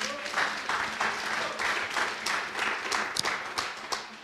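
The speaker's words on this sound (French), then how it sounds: "On l'applaudit, c'est pas facile." A seated audience at a French recruitment talk applauds a participant, a soft, steady wash of distant clapping with a few crisper claps near the end and no speech.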